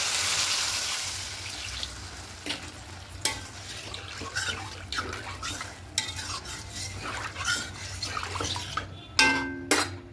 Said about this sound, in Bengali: এবার এখানে জলটা অ্যাড করবো।